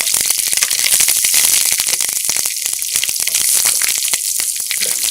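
Onions fry in a pan for Tamil Nadu style sambar, giving a loud, dense crackling sizzle close up with rapid popping throughout and no voices.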